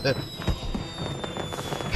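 Fireworks bursting across a building in the South Park video game, a quick run of sharp cracks and pops, the loudest near the start and midway, over a busy background with voices present.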